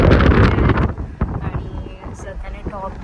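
Wind rushes loudly past an open-top car during a family road trip, a strong broadband buffeting at first that eases into a lower steady roar, with voices talking over it.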